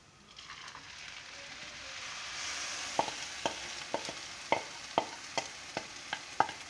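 A bread and egg halwa mixture sizzles as it roasts in ghee, a soft steady frying hiss joined after a few seconds by a regular series of sharp spoon taps and scrapes against the pan.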